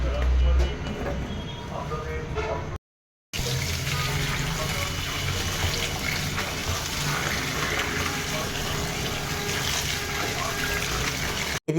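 Tap water running steadily as leafy greens are rinsed in a kitchen, a continuous splashing gush broken by one short pause before the flow resumes.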